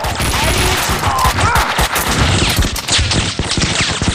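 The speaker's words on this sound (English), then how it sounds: "Someone must have heard the gunfire." Dense, rapid bursts of gunfire crackle in Max Payne 2 on Xbox, loud overlapping shots and automatic volleys firing in quick succession with scattered game effects behind them.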